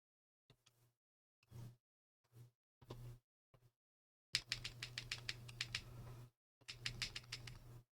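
Typing on a QK80 Mk2 keyboard with HMX Hades switches: scattered single clacks and short bursts, then a fast run of crisp, close keystrokes, a pause, and another quick flurry.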